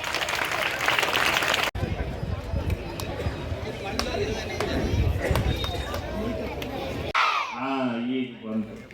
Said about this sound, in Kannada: ವಿದ್ಯಾರ್ಥಿಗಳೇ, ಒಮ್ಮೆ ಪ್ರೀತಿಯ ಚಪ್ಪಾಳೆ ಸಿಗಬಹುದಾ?